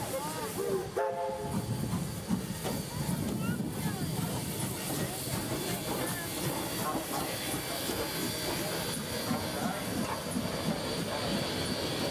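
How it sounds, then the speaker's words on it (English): Steam locomotive 3526 stands after a water stop, its steady loud hiss and rumble of rail machinery filling the air continuously as it prepares to shunt, with faint voices occasionally in the background. "After a water stop, 3526 is now getting ready to shunt for its next shuttle trip for the day."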